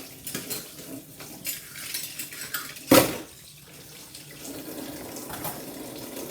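Tap water runs into a kitchen sink while utensils and baking items are washed, with cutlery and dishes clinking and one loud clatter midway; steady rinsing throughout, no talking.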